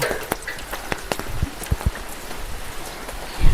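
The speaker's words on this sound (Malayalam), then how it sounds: "ഇന്നലെ രാത്രി മുതൽ മഴയാണ് കേട്ടോ" Steady rain falling, with scattered sharper drips and taps standing out against a soft, constant hiss.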